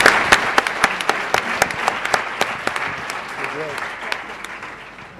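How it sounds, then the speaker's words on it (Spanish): Audience applause at the Premios Actúa awards ceremony honoring an entrepreneur, steady close clapping with sharp individual claps that slowly fades out. "un aplauso a la emprendedora"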